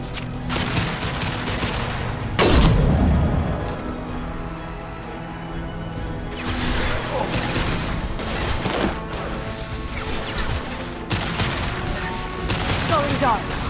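A concussive shot and bursts of gunfire in Mass Effect 2, with a heavy thudding blast early on and sustained rapid shooting and impacts afterward, loud and close, with speech partly mixed in.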